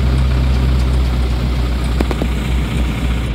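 A John Deere 2140 tractor engine runs with a steady low rumble and picks up slightly as it is given some revs, loud and close, with no talk.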